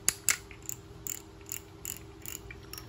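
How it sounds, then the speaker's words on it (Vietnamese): An Abeto XT1000 fishing reel's ratchet gives bursts of crisp mechanical clicking, close and clear, in a quick uneven rhythm over a steady low hum. "đây là tiếng lưỡi gà của máy nha mọi người"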